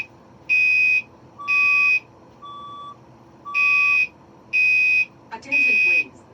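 Fire alarm evacuation tone during a building alarm test: five loud, evenly spaced electronic beeps, each about half a second long, with a fainter tone between, near and sharp.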